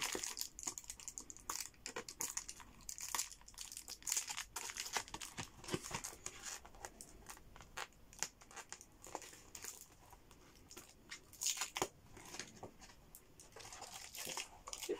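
Crinkling plastic packaging is torn and handled as a paper project pad is unwrapped, with close, busy rustling bursts and no talking.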